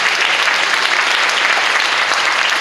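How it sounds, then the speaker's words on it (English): An audience at a political candidates' event claps continuously, dense steady applause filling the room at close range with no pauses and no talk. "Can you clap your hands for the candidates if you're awake?"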